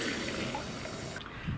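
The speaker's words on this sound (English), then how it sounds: "put your water in first" Tap water pouring steadily into a plastic foam cannon bottle, a close, bright continuous rush that cuts off abruptly near the end.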